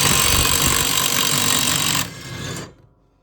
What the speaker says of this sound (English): What I got is a 3/8 Mower impact, and I got a 24mm Capri socket on there